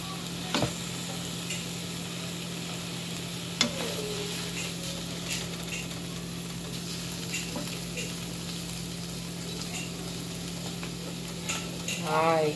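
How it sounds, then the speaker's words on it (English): Scrambled eggs sizzle steadily in a hot pan while a spatula scrapes and stirs them, with faint clicks and a constant low background hum. "let's go ahead and grab the spatula, and we're just going to"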